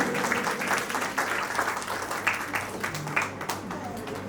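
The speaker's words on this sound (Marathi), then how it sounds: "जोरदार टाळ्या अर्णाचं स्वागत करूया" An audience at a sixth birthday party claps to welcome a child, with steady, fairly soft applause lasting a few seconds and voices mixed in underneath.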